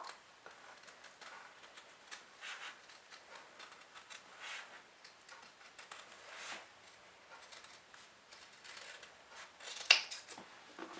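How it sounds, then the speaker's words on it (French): Scissors cutting fabric along a rounded edge for a sewn storage basket, a steady run of soft, quick snips and rustles at close range, fairly quiet, with one sharper click near the end and no talking. "c'est vraiment l'arrondi qu'il faut découper"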